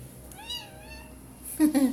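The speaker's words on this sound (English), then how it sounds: "My cat." A pet cat gives one short, close meow with a rising then falling pitch, followed by a brief burst of louder noise at the end.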